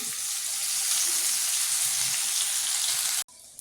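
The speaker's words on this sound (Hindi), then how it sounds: "अब मैं इसमें कबाब डालती हूँ" Mutton chapli kebabs fry in hot oil on a flat tawa, giving a loud, steady, dense sizzle that holds nearly throughout before cutting off abruptly near the end.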